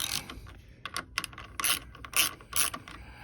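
Socket wrench ratcheting in quick bursts while tightening the clutch on a Honda Monkey Z125 during a heavy clutch spring and plate install, the clicking pawl close and crisp between short pauses.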